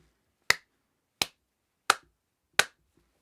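Four sharp, evenly spaced single hand claps ring out alone in a quiet room, made as a camera latency test while recording through a Rode NT USB Mini microphone.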